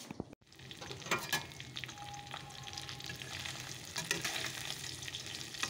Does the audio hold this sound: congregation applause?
no